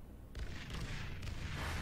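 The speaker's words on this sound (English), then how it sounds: "Oh, looks like there's our first airstrike." Carpet-bombing airstrike explosions in the video game Section 8: Prejudice, heard as a dense roaring broadband barrage with repeated heavy booms rising after a brief quieter start and sustained loud to the end.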